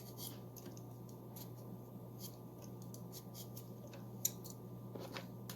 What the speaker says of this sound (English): So I'm peeling off the potatoes, which you could see.